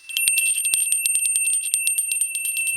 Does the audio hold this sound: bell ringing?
yes